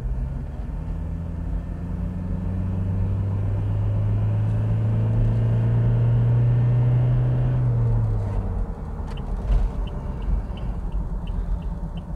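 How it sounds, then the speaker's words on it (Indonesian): Steady low road rumble and tire hum inside the cabin of a modified Toyota Fortuner on non-standard wheels and tires, droning continuously at moderate level with a slight swell in the middle, no talking. "Suara wuk-wuknya ban sedikit ada masuk"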